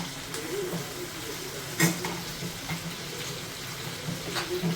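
Paneer curry fries and is stirred in a pan, giving a faint, steady sizzle with a few soft scrapes and one brief louder clatter of the spoon near the middle, with no talk.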